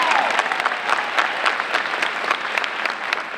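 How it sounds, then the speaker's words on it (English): An audience at an evening scholarship event claps in steady applause, a dense patter of many hands with individual claps standing out, heard at moderate level throughout with no speech. "Please join me in giving Angel another round of applause."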